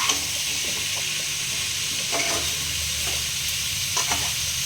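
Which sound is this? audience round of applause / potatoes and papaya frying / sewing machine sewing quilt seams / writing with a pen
potatoes and papaya frying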